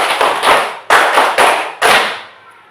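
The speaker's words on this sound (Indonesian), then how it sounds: "Iya, kita beri tepuk tujuh untuk Nando. 1, 2, 3, tepuk tujuh" A group performs a seven-beat rhythmic clap, a short Indonesian clapping routine. A handful of sharp, loud unison claps land in an uneven pattern, each ringing out briefly before a quiet tail.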